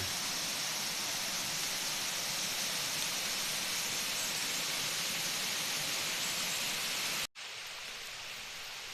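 Rainwater rushes through a forest stream after a downpour, a dense, steady broadband roar that holds constant before dropping abruptly to a quieter, thinner flow near the end, with no voices.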